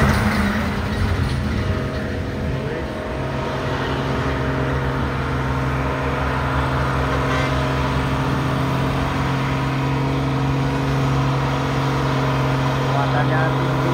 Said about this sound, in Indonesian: Ini truk angkutan Kalimantan